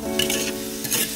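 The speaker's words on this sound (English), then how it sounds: "add broccoli, and the rest of sauce. Keep stir frying." Broccoli and sauce sizzle steadily in a hot pan while being stir fried for a vegan pork-style slice dish, with a spatula scraping and stirring, loud and close.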